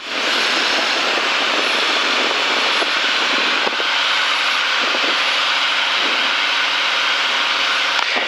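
A Cirrus light aircraft on final approach to grass runway 04 right at Archerfield, heard as a loud, steady engine and airflow drone that fills the whole stretch with little change in level.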